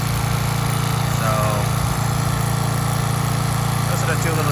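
An old, trashed pressure washer engine runs steadily at a loud, rough idle, with a constant droning hum and vibration throughout and no talking.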